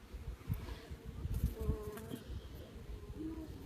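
Honey bees hum at an open hive during an inspection, a steady close buzz with shifting tones and no one speaking.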